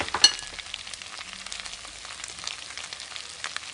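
An egg cracked into a pan sizzles and fries steadily with a soft crackling hiss, fairly quiet and close, with a few small pops and no one talking.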